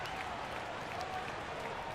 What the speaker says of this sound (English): One more round of applause for your performance.